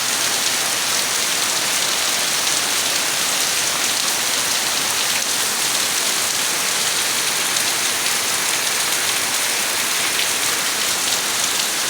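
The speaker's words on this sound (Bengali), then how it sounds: "দেখেন কী কী পরিমাণে বৃষ্টি হচ্ছে" Heavy rain pours steadily during flooding in Bangladesh, a dense continuous hiss of water striking surfaces with no breaks, loud and close.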